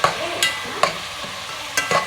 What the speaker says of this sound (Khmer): ឆាបាយឲ្យឆ្កែ